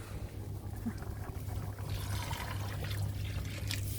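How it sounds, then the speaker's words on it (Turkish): Meat broth pours into a pot of keşkek cooking on a wood stove outdoors in the snow, a steady liquid trickle and splash running for several seconds against a low background hum. "Şimdi etimin suyunu da koyacağım buna."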